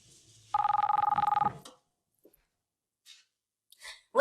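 A mobile phone rings nearby in one short, trilling electronic burst lasting about a second. Quiet follows, broken by a few faint clicks and rustles.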